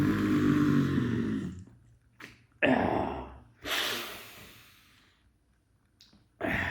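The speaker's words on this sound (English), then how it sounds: "So teeth together, breathe in through your lips." Yoga breathing exercise, air drawn in through the lips with the teeth held together, a few close hissing inhalations and exhalations separated by quiet pauses, no talking.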